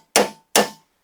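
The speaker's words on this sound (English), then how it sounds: "you hammer down on it," Two sharp metallic hammer blows, close and evenly spaced, strike a nut extractor down onto a rusted bolt head during battery tray removal on a 1999–2006 GMT-800 Chevy/GMC truck.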